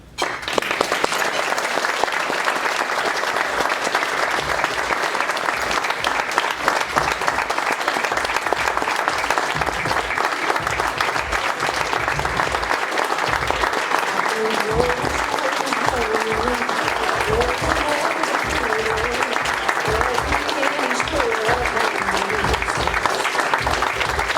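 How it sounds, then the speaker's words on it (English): Sustained applause fills a gala hall, a dense crowd clapping steadily and loudly for the full stretch, with faint voices rising beneath it toward the end. "please give another round of applause for Dr. Theresa Reer."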